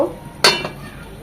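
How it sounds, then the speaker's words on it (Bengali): A lid clatters onto a pan of fish curry (shillong fish with spring onion and tomato) cooking on the stove, one sharp metallic clank followed by a softer second knock, close and alone. "এখন এটাকে ঢাকা দিয়ে দেব"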